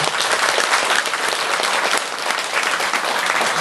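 An audience claps steadily and warmly at a Buddhist gathering on Jirisan, a dense, even round of applause with no voices over it.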